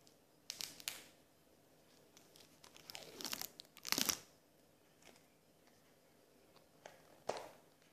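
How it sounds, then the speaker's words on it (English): Cellophane wrapper is peeled off a Lambert & Butler cigarette pack, with scattered quiet crinkles and a few sharper tearing bursts, close up and otherwise near-silent. "So, just taking off the cellophane."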